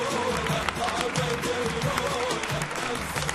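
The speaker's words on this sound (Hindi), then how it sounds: "तालियां।" A cricket event crowd applauds as Sunil Gavaskar and other former players are called up, steady clapping and crowd noise mixed with cheers, while a voice talks over the applause.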